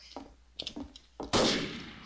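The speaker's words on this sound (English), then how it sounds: "I hear gunshots." Gunshots in the video game Garry's Mod Trouble in Terrorist Town: a few sharp shots in quick succession, then a louder blast trailing into a burst of noise.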